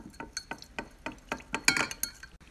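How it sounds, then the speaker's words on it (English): A glass stirring rod or spoon clinks repeatedly against a glass beaker while copper oxide is stirred into sulfuric acid, giving about a dozen light, close, rhythmic taps with a brief louder cluster near the end. "Keep stirring the solution till the copper oxide is completely dissolved in sulfuric acid."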